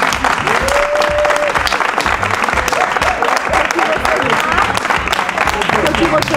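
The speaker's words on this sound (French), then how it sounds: "on applaudit quand même." A studio audience on a French-language game show claps loudly and continuously in a dense, even roar of hands, with hosts talking over the applause.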